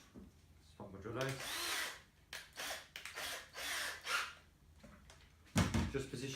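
Short bursts of a power drill whirring into material, several brief runs separated by pauses, fairly close, with a low knock near the end.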